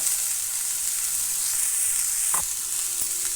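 Sprouted grains sizzle steadily in a hot pan for a few seconds, with a brief stirring scrape near the end and no voices.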